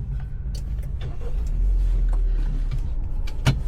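A 2025 Proton Saga MC3 car starting with its push-start button: a low engine rumble rises and settles into a steady idle, with a few light clicks and a sharp knock near the end.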